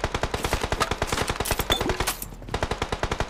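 Steady, rapid automatic gunfire from enemies in a mobile shooter game crackles in even rhythmic bursts, fairly close and loud, with a brief pause before the shots resume.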